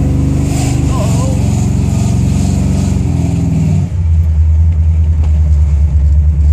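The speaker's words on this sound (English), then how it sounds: "I wanna let the engine heat up correctly first before I do anything silly" A Buick Regal's 455 V8 warming up, idling with a steady deep rumble that shifts into a lower, heavier drone partway through, loud and close.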